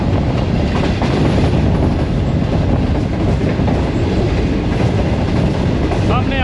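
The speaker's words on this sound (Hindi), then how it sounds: "green line Sahiwal railway station से पास थ्रू किया और बड़ी ज़बरदस्त रफ्तार के साथ स्किप किया साहिवाल को" Green Line express train racing through Sahiwal station at high speed, a loud continuous roar of wheels and carriages with clattering rail noise and a short squeal near the end.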